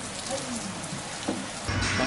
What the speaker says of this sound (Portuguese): Está a começar a cair chuva grossa.